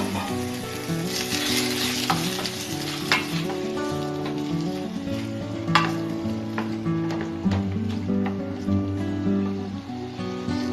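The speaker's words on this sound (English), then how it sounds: "once your garlic and onions are cooked, the next step is to put your 15 button mushrooms sliced" Sliced button mushrooms hit a hot pan with cooked garlic and onions, giving a loud, continuous sizzle broken by occasional spatula scrapes and clicks, close up and with no talk.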